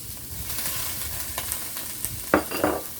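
Snow peas go into a hot pan for chop suey, sizzling and frying steadily while being stirred, with a couple of louder crackling bursts toward the end and no voices.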